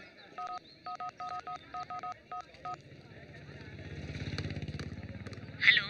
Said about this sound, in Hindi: एक और फोन करता हूँ।